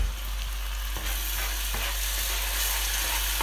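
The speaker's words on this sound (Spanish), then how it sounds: "Lo removemos todo bien." Soy cream being stirred into a coconut-milk curry in a hot pan, a steady sizzle and frying hiss running throughout with faint scrapes of the spoon, close and continuous with no talking.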